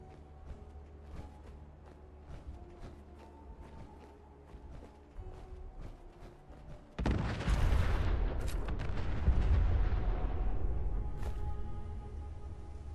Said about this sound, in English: there's explosions over here